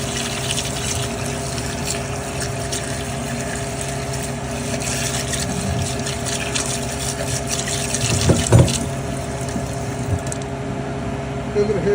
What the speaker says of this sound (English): I've just brought them in the house to rinse them off according to the instructions.